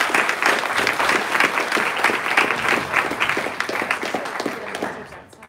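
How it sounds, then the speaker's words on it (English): An audience at a talk on AI and student learning gives a round of applause, loud dense clapping that fills the room steadily and gradually fades toward the end. "Can we give them a round of applause first?"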